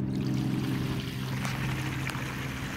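Grey water pours steadily out of an RV tank and rushes through a drain hose, a close, continuous gushing stream with a low hum and occasional faint knocks.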